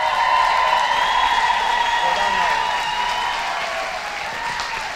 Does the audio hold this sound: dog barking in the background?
no